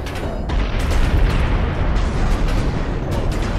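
Naval battle noise in Ultimate Admiral: Dreadnoughts as shells hit a ship: a continuous heavy rumble of big-gun fire and impacts, with sharp bursts and booms layered over a thick, steady roar.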